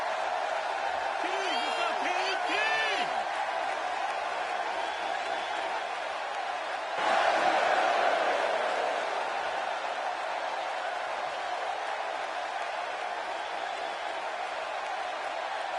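A capacity arena crowd in the WWE 2K16 wrestling game keeps up a steady wash of cheering and crowd noise throughout, swelling briefly midway, with a few whoops rising above it.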